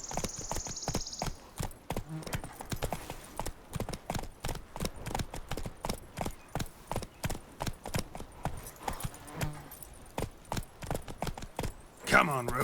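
Horse hooves clip-clop in a steady, close rhythm from The Witcher 3: Wild Hunt, with a short snort and some talk near the end.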